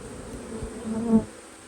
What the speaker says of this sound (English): We want to tap all the bees gently out of the frame feeder, landing the bees right there on top of the frames.